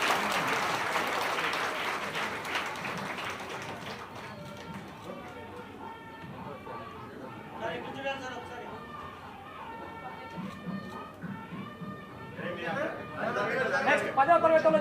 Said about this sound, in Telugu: గట్టిగా మరొకసారి వారికి గట్టిగా చప్పట్లతోటి